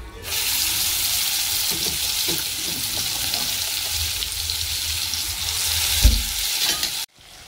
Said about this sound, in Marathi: कढीपत्ता टाकला तो पण तडतडला.